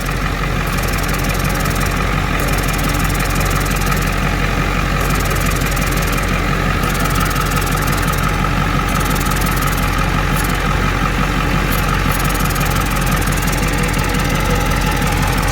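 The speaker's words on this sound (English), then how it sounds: "So right here, you can hear like a pulsing sound." Ford 7.3 diesel truck engine running with a pulsing sound from the brake system, a loud, steady low rumble with a regular throb throughout.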